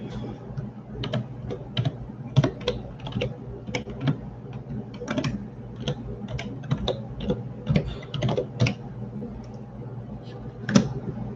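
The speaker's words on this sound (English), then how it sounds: "I want to make sure I type it correctly." Typing on a computer keyboard, quick irregular bursts of close key clicks with brief pauses, fairly quiet, under a low background hum.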